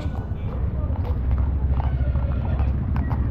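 Horse hooves clip-clop in a steady rhythm during an outdoor horse ride, close to the microphone. Wind rumble runs underneath and faint voices sound in the background.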